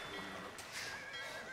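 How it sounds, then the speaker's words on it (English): A horse neighs in the Age of Empires video game, a single short whinny heard faintly over quiet game ambience. "I can do that with my horse. Because I have a horse."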